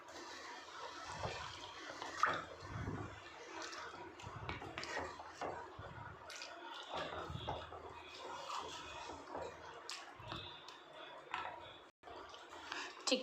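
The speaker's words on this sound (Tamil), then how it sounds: "சிக்கன் வந்து நல்லா வேகிறதுக்கு நம்ம வந்து 1/2 டம்ளர் தண்ணி ஊற்றிடலாம்." Half a tumbler of water is poured into simmering chicken gravy in a pan, giving a splashing, trickling pour over busy kitchen clatter across several seconds.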